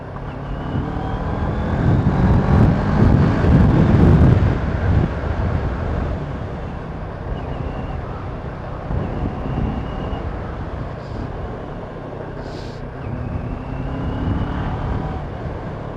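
A CF Moto MT650 motorcycle rides along a road in Nepal, its engine a steady, close rumble mixed with wind roar that swells early and then holds at an even level.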